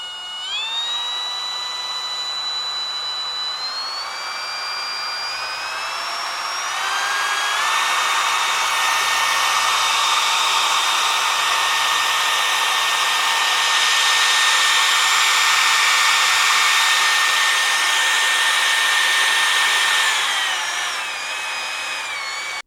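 A Makita 18V cordless compact router runs steadily for over twenty seconds, its loud, high motor whine stepping upward in pitch as the speed setting is raised and then easing back near the end, with no talking.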